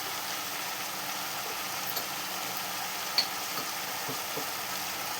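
Bottle gourd curry with panch phoron and dried chillies cooks in a pan as a faint, steady low sizzle, with a couple of tiny clicks and no voices.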